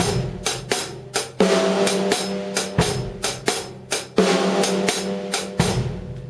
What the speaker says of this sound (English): we're playing the bass drum on 1 and the snare drum on 3